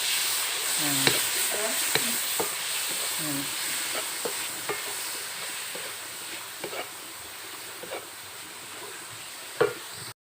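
Beef stir-frying in a hot pan, a continuous gentle sizzle with occasional spatula scrapes and taps, fairly quiet, with faint voices in the background.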